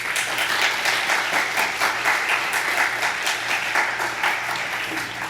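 A church congregation at a Wednesday service claps warmly to welcome a missionary, a sustained, full round of many hands at an even, close level with no speech over it.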